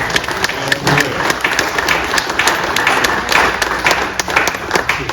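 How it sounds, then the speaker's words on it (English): A congregation claps together in a church celebration, a dense, steady wash of hand claps with sharp individual slaps standing out, filling the room at close range for the whole stretch. "let's give the Lord a great big hand of clap"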